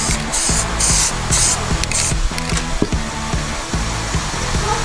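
A spray can is aimed at the transmission pan of a Dodge Ram 1500 truck, giving several short hissing bursts early on over a steady low hum.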